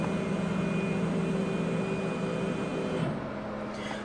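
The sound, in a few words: RMLaser RM960 Pro CO2 laser engraver moving to home position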